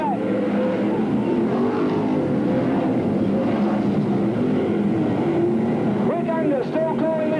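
Sprint cars race at the 1983 Australian Sprintcar Grand Prix, their engines a loud, continuous roar with rising and falling pitch as the cars jostle for position. An excited commentator talks over the racing throughout.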